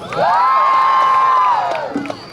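A convention crowd cheers for cosplayers with a loud, sustained whooping shout that holds for over a second before tapering off into background crowd noise.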